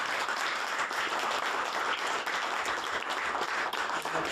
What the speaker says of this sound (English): So please give yourselves a hand of applause.